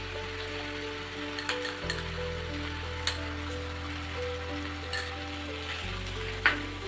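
Ground onion paste sizzling and frying in a pan with ginger paste for mutton korma, a steady close crackle with occasional stirring clinks and no talk.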